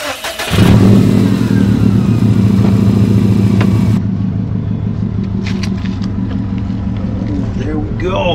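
A car engine with a carbon-fibre body kit rumbles loudly as a ride begins, a steady deep drone that holds after a sharp start and then settles slightly quieter, with faint sounds over it.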